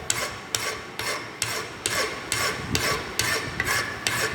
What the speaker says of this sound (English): this file actually removing the excess material from our workpiece